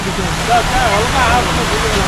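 A steady, close rush of water falling from a fountain at NTR Gardens, Hyderabad, splashes continuously, with faint voices murmuring underneath.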